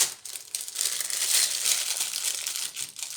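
Parchment paper crinkles and crunches close up as it is pressed down onto solid shampoo in a flower-shaped mold, a run of dense, irregular crackles with no voices.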